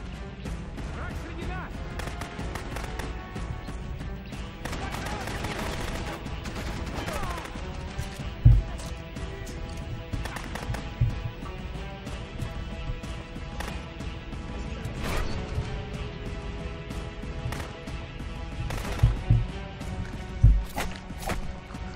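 Gunfire in the Rogue Warrior video game, scattered shots and crashes under a steady game soundscape, fairly quiet overall with a few louder bursts, while someone talks over it.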